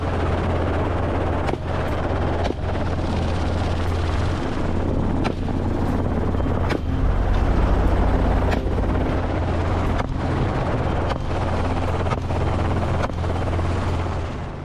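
A helicopter flying low over farmland on a wild boar hunt, a loud, steady rotor roar with rhythmic blade thumps and wind buffeting throughout, close and continuous with no talking.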